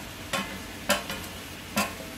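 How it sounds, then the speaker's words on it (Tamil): A paalkova milk sweet mixture with sugar is stirred in a pan, giving three distinct scraping strokes roughly half a second apart over a soft, steady background sizzle, close by, with no talking. "சுகரை நல்லா அதோட மிக்ஸ் பண்ணணும்."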